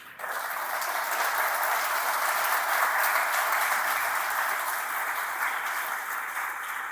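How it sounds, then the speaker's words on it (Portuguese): Steady, full applause from a church congregation, a dense wash of clapping that starts abruptly and holds at an even, loud level throughout with no voices over it. "Dá um aplauso a Jesus."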